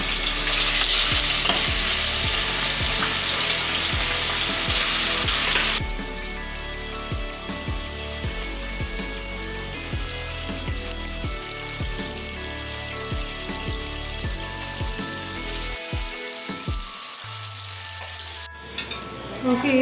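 Marinated fish for Kerala-style fish pickle frying in coconut oil, with a loud bubbling sizzle at first that settles into a softer steady crackle, plus occasional utensil clinks and no voices.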